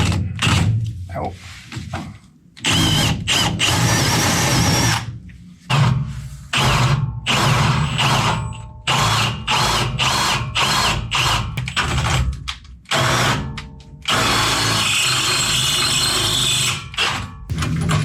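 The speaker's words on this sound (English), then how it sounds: "drill out the tapered part of the arm, because this is tapered for a ball joint" A power drill boring out the tapered ball-joint seat of a car suspension arm to take a large 5/8 bolt, sounding as long loud whining bursts that stop and restart several times at close range.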